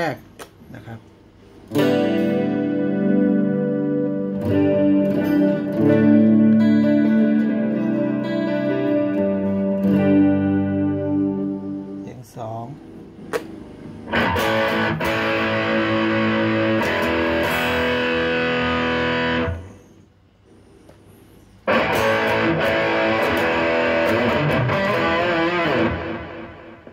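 An electric guitar through a Boss ME-80 multi-effects preset plays sustained, distorted chords in three long passages separated by short gaps, loud and up front, with no talking.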